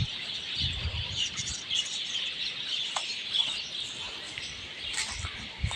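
Many small birds chirp and tweet together inside an aviary at Balesin, a dense, steady twittering chorus at moderate distance with no voices.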